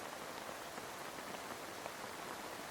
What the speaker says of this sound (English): Oh, it's really rainy.